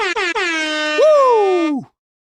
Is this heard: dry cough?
no